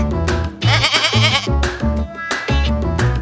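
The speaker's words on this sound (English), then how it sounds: "G is for goat." A goat bleats loudly and repeatedly up close, wavering nasal cries over a rhythmic musical backing.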